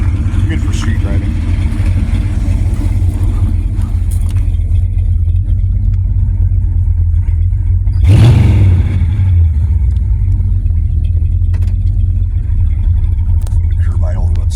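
A 1972 Chevrolet Caprice with a 400 small-block V8 idles at a low, steady curb idle, a loud, even rumble throughout, with a brief rise in revs around the middle before settling back.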